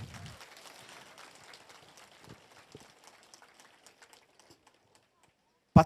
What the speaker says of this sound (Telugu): గట్టిగా చప్పట్లు కొడతాం మాధవ్ మేడంకి